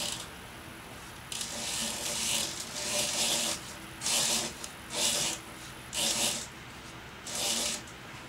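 A turned wooden bowl being sanded by hand, repeated rasping strokes in bursts of about a second, close and fairly loud, with pauses between passes.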